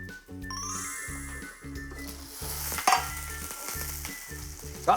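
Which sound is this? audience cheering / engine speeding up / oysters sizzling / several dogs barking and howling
oysters sizzling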